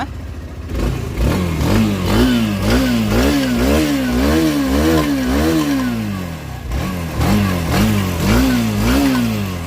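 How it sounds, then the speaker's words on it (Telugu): A Honda motorcycle engine, said to run smoothly, revs up and down again and again close by, a loud rising and falling drone with a brief dip before it climbs once more. No one speaks. "బండి స్టార్ట్ అయింది చూసారా. ఇంజన్ ఇప్పుడు కూడా రిమార్క్ లేదు."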